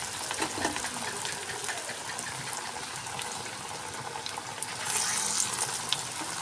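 Thin handfuls of onion fritter batter dropped into hot mustard oil give a steady, bubbling frying hiss that swells noticeably louder toward the end, with no talking.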